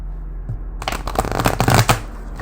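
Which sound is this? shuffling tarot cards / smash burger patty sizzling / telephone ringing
shuffling tarot cards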